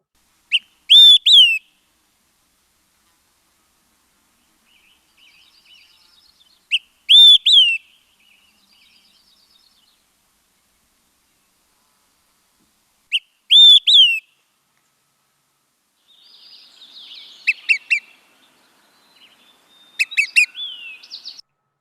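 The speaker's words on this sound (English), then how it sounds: "This is the olive-sided flycatcher. At the end, you heard a little 3 pip, pip, pip sound." An olive-sided flycatcher sings three loud, clear whistled phrases spaced several seconds apart, followed near the end by a quick run of short pip calls, all close and alone against silence.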